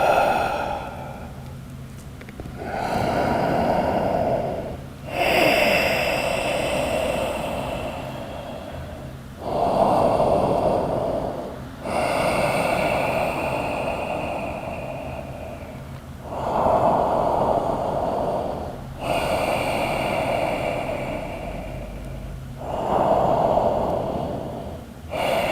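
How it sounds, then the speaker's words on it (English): Deep, slow breathing through the nose during a yoga shoulder stretch for BJJ: about five long inhale-exhale cycles, close and fairly loud, with steady rhythmic pauses between breaths. "breathe as deep as you can through your nose"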